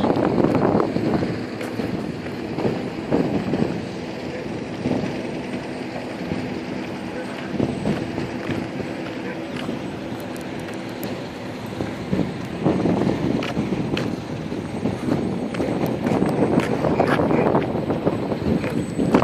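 Steady wind buffeting a microphone at an airfield, a continuous rough rumble with gusty surges throughout, while voices talk intermittently underneath.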